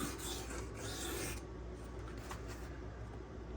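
The tip of a Spyderco Sage 5 knife blade is ground on a sharpener, making a steady, close rasping scrape that eases slightly partway through.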